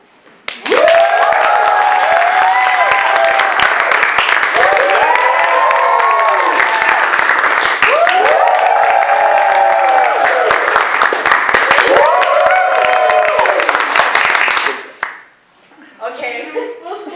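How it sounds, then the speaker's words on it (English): Loud audience applause and cheering at a school event, with sustained clapping, whoops and rising shouts from the crowd before it dies away into talk. "Okay, so applaud."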